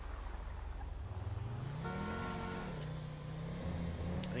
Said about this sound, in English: that guy just honked at us